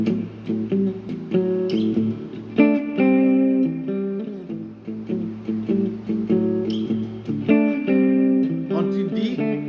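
Electric or acoustic guitar plays a four-bar blues riff in A, plucked notes and repeating phrases moving in steady rhythm, clear and close with no voice over it.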